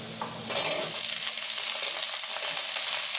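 Bottle gourd greens hit a hot frying pan with a loud burst of sizzling, then a steady crackling hiss as they are stirred, close by.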